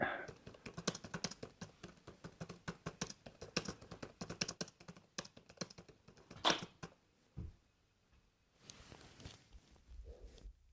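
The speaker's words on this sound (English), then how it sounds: "as he sits there typing away" Rapid, uneven clicking of keys on a computer keyboard, dense for several seconds, then a pause followed by a few scattered thumps and rustles.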